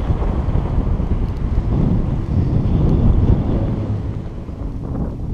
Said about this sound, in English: And this is the Adak wind.